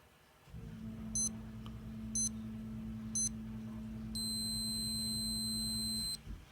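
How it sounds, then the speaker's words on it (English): A Spinnaker Amalfi Yacht Racer watch's countdown timer gives three short, evenly spaced electronic beeps one second apart, then a sustained chime lasting about two seconds, all over a steady low hum with no talking. "2, 1, and then a long chime"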